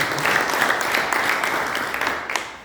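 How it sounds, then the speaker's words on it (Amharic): A church congregation claps together in a dense, sustained burst of applause with crowd noise, loud and close, holding steady throughout. "አጨብጭቡ እስኪ ለእግዚአብሔር"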